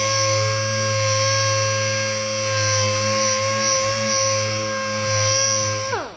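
A dual action sander whines steadily close by, sanding a Lincoln lowrider's car body, with a constant motor hum, winding down at the end.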